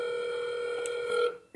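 A telephone rings with a steady electronic tone that holds for about a second before cutting off, clear and fairly close with no talking over it.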